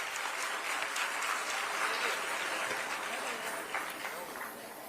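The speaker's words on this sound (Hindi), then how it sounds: "जोरदार तालियों के साथ स्वागत हो सभागार।" Dense, loud applause fills an auditorium at a government event in Lucknow, many hands clapping steadily before tapering slightly toward the end.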